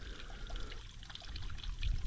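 Water from a natural mountain spring runs continuously at a campsite near rice terraces in Bagac, Bataan, a steady close trickling pour with no talk over it.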